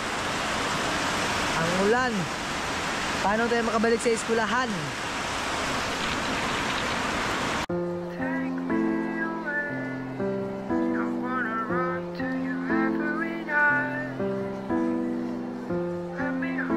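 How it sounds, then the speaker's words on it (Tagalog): Heavy rain pours down in a steady hiss, with people talking over it, before the scene cuts to quieter indoor sound. "Umuulan na naman."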